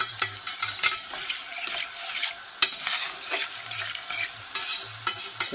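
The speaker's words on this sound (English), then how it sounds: "oil into the rice, along with the salt, and now I'm just gonna let it fry a little bit" Rice frying with oil and salt in a pot, stirred with steady scraping strokes over a constant close sizzle, with occasional light clinks against the pot and no talking.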